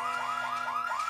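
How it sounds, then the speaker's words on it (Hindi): A cartoon alarm rings in a steady, repeating electronic warble, cycling about four times in quick succession, loud and alone with no talk over it. "देखो अलार्म बज रहा है।"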